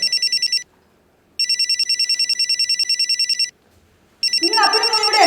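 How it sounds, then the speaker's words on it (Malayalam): A telephone rings in repeated electronic bursts with silent gaps, loud and close, and a voice begins speaking over the last burst. "ടെലിഫോൺ അടിക്കുന്നത് കേട്ട് നീ എന്തെടുക്കുക?"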